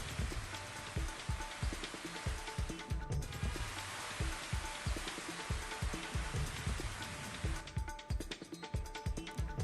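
Unseasonal rain pattering steadily and densely on surfaces in Sambhajinagar, a close, continuous hiss of drops with no voices.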